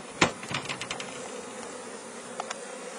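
Honeybees from a young colony buzz around an opened hive as a frame is pulled, a steady close drone with a few sharp taps and knocks near the start.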